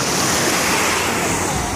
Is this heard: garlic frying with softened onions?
no